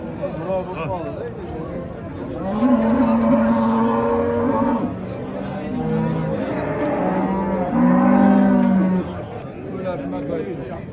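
Cows at a livestock market give several long, loud moos close by, with market chatter and people talking around them.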